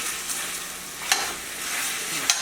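Lemon chicken with garlic, black pepper, onion powder and lemon zest sizzling in a stainless steel pan: a steady, close frying hiss with a couple of brief utensil ticks, no talking.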